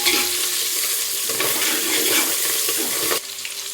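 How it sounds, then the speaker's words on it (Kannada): Continuous crackling sizzle of fenugreek leaves frying in a pan, loud and close, with stirring scrapes; the sizzle drops slightly near the end. "ನೋಡಿ ನಾನು ಮೆಂತ್ಯ ಪಲ್ಯ ಹಾಕ್ಕೊಂಡಿದ್ದೀನಿ ಇದಕ್ಕೆ. ಅದನ್ನು ಚೆನ್ನಾಗಿ ಫ್ರೈ ಆಗಬೇಕು."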